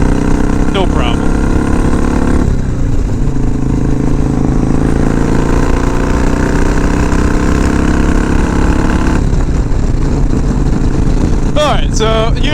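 A Harley FXR motorcycle engine drones loud and steady as the bike rides onto a parkway, its continuous rumble rising and shifting in pitch with someone speaking over it.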